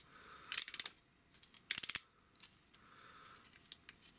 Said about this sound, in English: now this piece here can fold out, and ratchet the legs down.